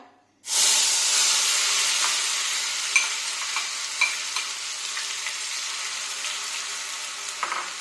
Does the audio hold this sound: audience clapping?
no